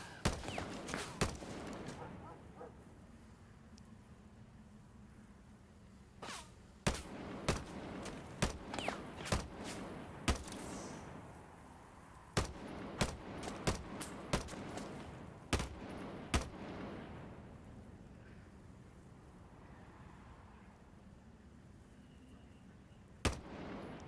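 Gunfire in a video game, with sharp shots cracking out singly and in short bursts across a steady background rumble, some loud and some more distant, the pace irregular throughout.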